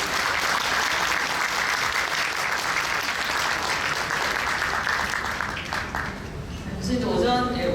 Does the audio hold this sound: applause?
yes